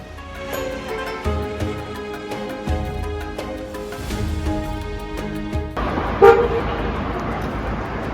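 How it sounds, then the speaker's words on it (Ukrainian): Street traffic in Hurghada, Egypt, with repeated car horns honking, short toots and longer blasts overlapping from several vehicles, some close, under a constant road rumble. "Безкінечні бібікання."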